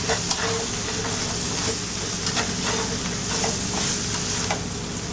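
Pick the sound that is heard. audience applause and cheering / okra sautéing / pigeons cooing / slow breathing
okra sautéing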